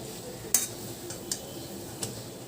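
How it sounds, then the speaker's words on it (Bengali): A spoon stirs ash gourd (chal kumro) and Gobindobhog rice with prawns in a covered pan, giving a few sharp metallic clinks and taps spaced irregularly over a quiet background. "এখন ওপর নিচ করে দিচ্ছি।"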